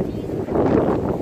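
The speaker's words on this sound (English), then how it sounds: "it's right windy, and it was a warm wind" Strong warm wind buffets the microphone outdoors near water while a kayak is towed, a dense low rumbling roar that holds steady through the moment with no clear speech.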